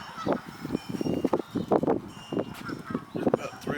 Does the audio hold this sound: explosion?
no